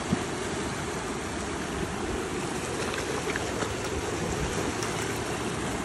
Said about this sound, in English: Fast moving little creek here.